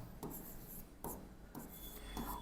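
Marker or chalk strokes on a board writing out a name, three short scratchy bursts separated by brief pauses, fairly close and moderately loud, with no voices.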